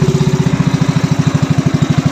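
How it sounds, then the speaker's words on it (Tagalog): An engine runs unevenly with a sputter, a loud, close, rapid chugging pulse that keeps a rough rhythm throughout with no voices. "Paluko-luko yung ating makina."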